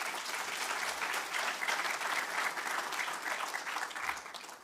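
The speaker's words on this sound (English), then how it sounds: "Can we give ourselves a round of applause?" An audience at the official announcement of Namibia's 2025 NSSCO and NSSCAS examination results claps in sustained, dense applause. The applause stays steady and even throughout, with no voices standing out.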